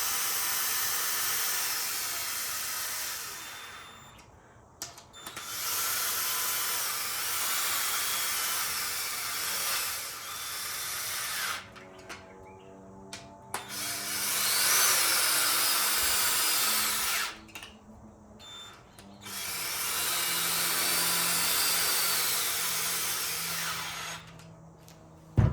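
Power driver tightening pressed-in hardware during AdrenalWheel assembly, several bursts of whirring motor noise separated by short pauses, with ratcheting clicks and handling sounds in one of the gaps.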